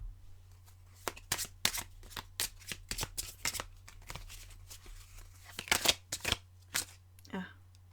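Tarot and oracle cards are shuffled and dealt in a series of crisp riffles and slaps, close and fairly quiet, bursting irregularly over several seconds against a steady low hum.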